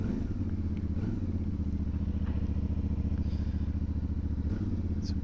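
A CFMoto 450MT's parallel-twin engine runs with a steady, throbbing, even-pulsed idle and a slight mechanical clatter on top, close and alone without talk.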